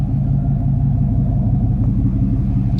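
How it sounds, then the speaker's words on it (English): A deep, steady pickup truck engine rumble through dual two-stage Flowmaster exhausts, with a throaty low pulse, idling close by at an even level throughout. "It has dual 2-stage Flowmaster exhausts on it, so it freaking sounds good."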